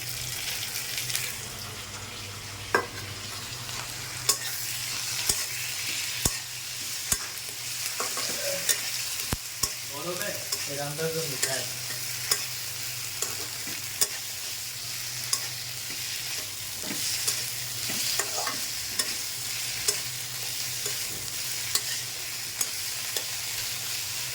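Potatoes fry in oil with onion, garlic, ginger and cumin paste, giving a steady loud sizzle under repeated stirring scrapes and taps of a utensil against the pan, close and continuous with no talk.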